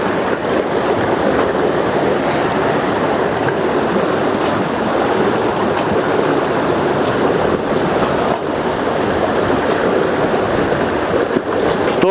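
Composite RM 1180 yacht under sail with the engine off, its wake rushing and hissing steadily alongside the hull, with wind buffeting the microphone throughout and no talk.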